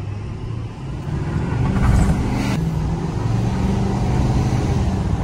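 A big diesel truck accelerates hard off-road, its deep engine rumble building and holding loud and close from start to finish.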